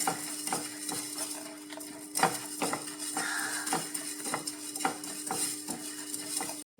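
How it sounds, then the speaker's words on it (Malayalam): Mustard and fenugreek seeds dry-roast in a pan as a spatula scrapes in regular strokes about every half second over a faint electrical hum. "നല്ലോണം ഇത് വറുത്തെടുക്കണം നമുക്ക്"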